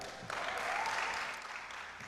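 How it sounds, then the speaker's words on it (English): A science week audience bursts into applause: a soft, somewhat distant wash of many hands clapping that swells quickly, holds for about a second and then fades away. "You can clap."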